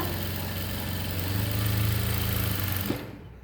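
A sewing machine runs steadily while stitching a coat collar, a continuous fast mechanical whir that speeds up slightly in the middle and then stops abruptly.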